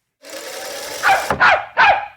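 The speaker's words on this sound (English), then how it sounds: "The barking is coming from behind this door." A dog barks behind a closed door in a Nancy Drew video game, a loud strained whine rising into three sharp barks, close and clear, with no other sound.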